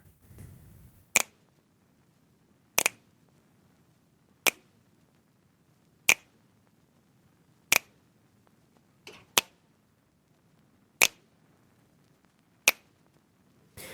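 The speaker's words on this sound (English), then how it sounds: "So here are the snaps with the background sound." Sharp, isolated finger snaps ring out about every one and a half seconds, about nine in all, over a faint steady background hum.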